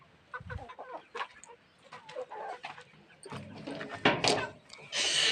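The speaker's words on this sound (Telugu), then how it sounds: "స్టాండ్లో ఇవి కోళ్ళు ఇవి చూసినావా" Chickens cluck in a stand at a market, irregular close clucks and squawks scattered across the moment with occasional handling noise, louder bursts toward the end.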